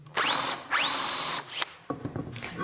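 Electric drill countersinking screw holes in the back edge of an oak casement window frame: two loud, steady bursts of about half a second each, each spinning up in pitch, then shorter bits of drilling and light handling knocks.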